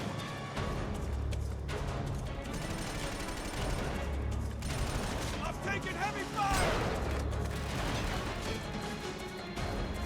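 Gunfire in the video game Killzone 2, with rapid bursts of shots and crashing impacts over a constant low game rumble, while a voice talks over the action.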